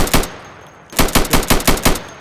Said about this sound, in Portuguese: E aqui atira nos alvos de madeira.